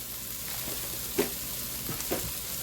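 Cabbage sizzles and fries steadily in a hot pan, a soft continuous crackle with a few brief louder pops and stirring scrapes, heard alone without talk.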